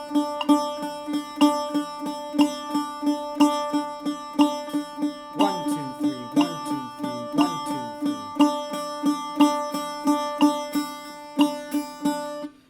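Bouzouki picked with a plectrum in even triplet groupings, bright plucked notes repeating in a steady rhythmic pulse, close and clear, with a denser passage of quicker strums midway.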